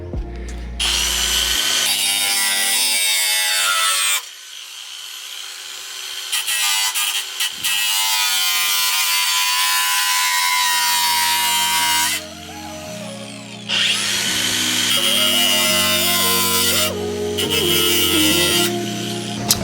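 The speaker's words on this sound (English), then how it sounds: "We just got to slit this off here with the grinder" During a Subaru WRX STI front-mount intercooler install, an angle grinder cuts off metal tabs in long, loud, close screaming passes with a harsh whine, stopping briefly between cuts.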